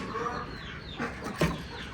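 Chickens shut in a backyard coop cluck softly and steadily, with a brief louder squawk near the end, no voices over them.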